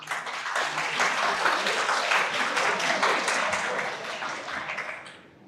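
Sustained applause from a university audience at a campus session in Lahore, dense and steady for about five seconds before tapering off at the end, with no speech over it.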